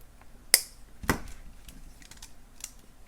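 Wire cutters snip excess beading wire on a handmade beaded dangle necklace, giving two sharp, close clicks about half a second apart, followed by faint handling ticks.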